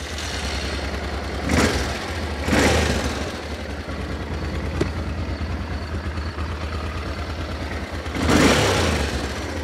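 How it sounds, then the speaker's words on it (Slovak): A 1986 Honda Transalp 600cc V-twin enduro motorcycle idles with a steady low rumble, broken by a few short throttle blips that rise and fall, the engine close by. "Začneme samozrejme tým, že si túto krásnu motorku naštartujeme."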